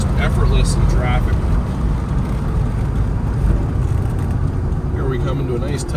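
The 1972 Plymouth Roadrunner's engine rumbles low and steady as the car drives toward a tight roundabout, with speech over the continuous drone.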